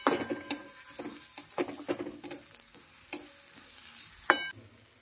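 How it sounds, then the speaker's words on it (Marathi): Ground homemade spice paste frying in a pan for a mixed vegetable dish, stirred with a spoon: soft steady sizzle broken by repeated close scraping clicks against the pan, no talk. "जे पण मम्मीने वाटण केलेलं आहे ते टाकलेलं आहे"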